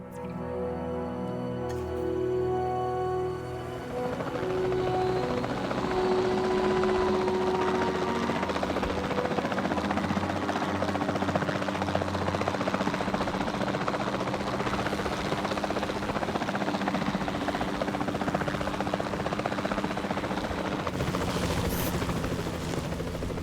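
Helicopter in the video game Jurassic World Evolution 2 on a dinosaur tranquilizing mission, a loud, steady rotor drone and engine whine running continuously, close and without talk.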